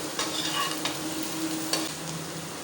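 Potatoes and onions sizzle in a frying pan while a utensil stirs them, soft scraping strokes over a steady, quiet hiss of frying.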